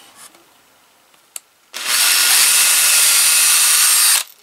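After a couple of faint clicks, a power drill bores a test hole through a kitchen board, a loud steady high whine lasting about two and a half seconds before stopping abruptly.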